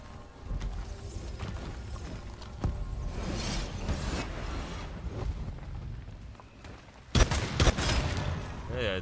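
Gunfire in the vampire battle royale game Vampire: The Masquerade Bloodhunt, scattered shots and bursts amid game noise, with a sharp loud volley late on, under excited talk.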